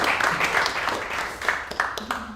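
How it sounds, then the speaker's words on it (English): A short round of audience applause at a community presentation, dense clapping that rises and fades over a couple of seconds with a voice cutting in at the end. "Just to give you a round of applause as well."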